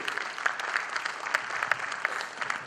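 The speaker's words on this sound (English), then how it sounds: "With a huge round of applause" Steady audience applause at a business conference after a speaker is welcomed to the stage, dense continuous clapping at moderate level with no talk over it.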